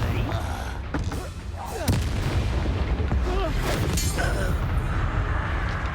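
A Confringo fire spell explodes in the video game Hogwarts Legacy, with loud, dense booming blasts and crackling impacts that roll on without a break, several sharp hits standing out against a constant roar of combat noise.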